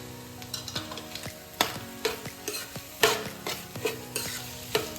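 Ginger garlic paste fries in a pan for restaurant-style egg rice, with a steady sizzle broken by repeated sharp scrapes and knocks of a spoon stirring against the metal, close and clear with no talk.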